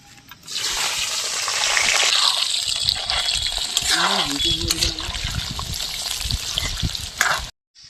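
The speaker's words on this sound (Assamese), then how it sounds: "মাংসৰ কাৰণে প্ৰথমতে মই আলুটো ফ্ৰাই কৰি ল'ম।" Potatoes frying in hot oil in a home kitchen, a steady loud sizzle running from start to finish and cutting off abruptly near the end, with faint clinks and a voice speaking briefly underneath.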